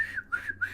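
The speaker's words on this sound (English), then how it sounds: "Then the little whistle" A short, bright whistle sounds in several quick chirping bursts, clear and fairly close with no talking over it, in a clip about a fake police officer.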